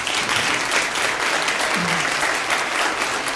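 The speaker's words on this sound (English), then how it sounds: "would you give our candidates a round of applause?" An audience at a school board and county commission candidate forum claps steadily and fairly loudly for the candidates, with a faint voice briefly audible beneath the applause.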